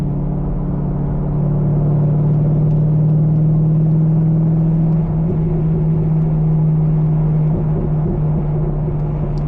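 A Corvette engine runs at a steady idle with a deep, even rumble and a low hum, close and loud for the whole stretch, with no voices.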